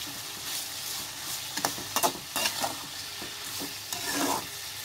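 Onion and fresh mint leaves sautéing in a pan for tomato pulao: a continuous close sizzle broken by a few quick spatula scrapes and stirs in the middle seconds, no voices.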